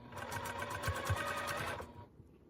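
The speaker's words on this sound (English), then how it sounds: "sewing this elastic on in a little 1-step process" A sewing machine stitches elastic onto mesh fabric in a steady, fast motor whir with a rapid needle rhythm, running close and continuous for about two seconds before stopping abruptly.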